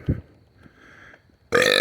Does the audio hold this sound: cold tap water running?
no